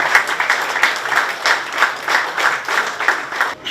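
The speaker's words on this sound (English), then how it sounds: "Can I please ask you for a loud applause for our next speaker" An audience at a London book launch gives a round of applause for the next speaker, a steady wash of many hands clapping that pulses slightly and stops abruptly.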